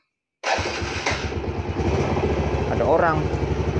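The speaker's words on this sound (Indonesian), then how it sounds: "Kita coba mesin hidup ya." An old motorcycle engine fitted with an anti-theft alarm starts suddenly and settles into a loud, steady, close putter, with someone speaking briefly over it.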